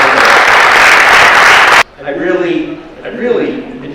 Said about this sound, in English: Let's give everyone a round of applause for coming in.